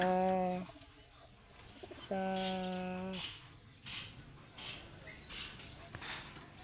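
A pigeon coos nearby in two low, throaty calls, followed by soft rustling and scattered clattering sounds.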